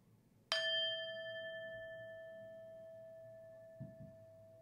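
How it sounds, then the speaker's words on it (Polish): A small gong struck once during a yoga nidra relaxation session, a clear ringing tone that sustains and slowly fades for several seconds, followed by a faint soft knock. "pozostań tutaj na trzy dźwięki naszego magicznego gongu, albo raczej gążka"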